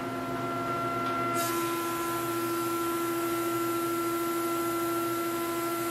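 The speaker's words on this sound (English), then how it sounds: "let's just have a listen to this planer as we fire it up" A Jet/Powermatic 20-inch helical-head planer running steadily, a constant machine drone with tonal whine; a brighter broadband hiss rises partway through as a test board feeds through the cutter head.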